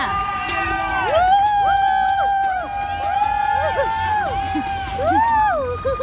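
A crowd of people fills a Budapest street, a steady murmur of voices and bustle under a clear, close talking voice that carries on throughout.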